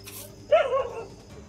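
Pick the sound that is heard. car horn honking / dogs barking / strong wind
dogs barking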